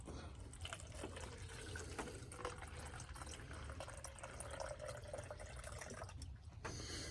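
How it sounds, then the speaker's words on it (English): Water pours steadily from a Grayl Geopress filter bottle into a cup with a continuous splashing gurgle, close by, then stops briefly before a little more trickles in near the end. "let's pour some of the water in."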